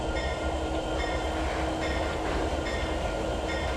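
A locomotive in the Trainz 2022 rail simulator game rolls along with a continuous, loud rumbling engine drone and steady wheel noise that stays even throughout, with no talking.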